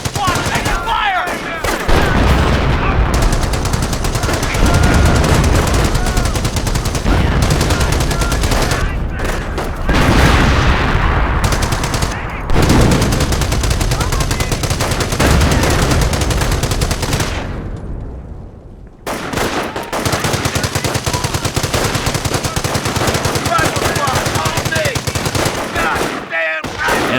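Heavy sustained gunfire fills a Company of Heroes battle, with dense machine-gun bursts and overlapping rifle shots rattling almost continuously at loud volume, one brief lull near the end, and voices shouting faintly beneath.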